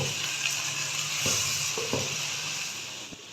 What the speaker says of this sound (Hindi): अब इसमें डाल दूँगी हरी मिर्चें, 3 से 4 अदद बारीक कटी हुई। अभी इनको थोड़ा सा फ्राई कर लेते हैं